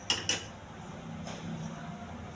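A pan meets a stovetop with two quick, sharp metallic clinks close by, followed by a faint softer knock and a low background hum, quiet overall and with no talking.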